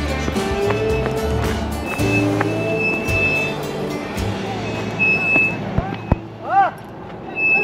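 A vehicle passes along the Pamir M41 highway in mountainous terrain, its engine rumble and tire noise swelling and fading beneath the listener's position, with a high whistle-like tone near the end.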